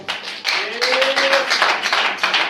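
Church congregation clapping and cheering together, a dense, loud crowd roar with scattered hand taps and a rising shout near the start, sustained throughout.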